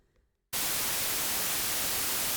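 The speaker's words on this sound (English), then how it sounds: "I'm going to make this really annoying by injecting white noise over it." Loud, flat white noise hiss injected over a vocal track cuts in abruptly after a short quiet moment and stays constant, swamping everything else.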